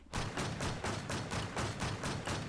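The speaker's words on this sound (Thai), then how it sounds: "มาเดี๋ยวยิง SVD นะครับ" An SVD sniper rifle fires in an online shooter game, a rapid series of about ten sharp, loud, evenly spaced shots cracking close by with no talk between them.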